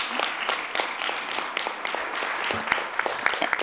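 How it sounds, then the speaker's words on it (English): An audience at a school board meeting applauds a group of presenters, sustained clapping with distinct individual claps standing out from a busy, moderately loud roomful of hands. "could you please join me in giving all of these presenters another round of applause"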